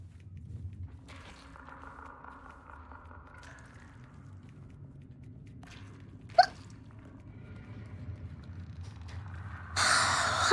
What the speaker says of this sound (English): I can't do this anymore with his hiccups!